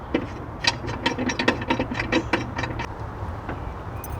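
Teraflex camera bracket standoffs are bolted onto a Jeep Wrangler with a ratchet, a quick run of close, sharp clicking strokes over several seconds that slows and trails off, with no talking.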